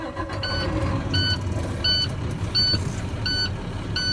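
A truck's diesel engine idles with a steady low rumble while air pressure builds during a pre-trip inspection, and a repeating electronic beep sounds at regular intervals over it.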